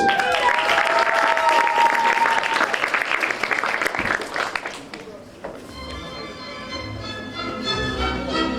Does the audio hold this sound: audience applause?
yes